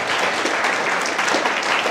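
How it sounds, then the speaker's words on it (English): Steady applause from an audience, a dense wash of clapping that holds at an even level throughout. "Let's give Nicky another warm round of an applause."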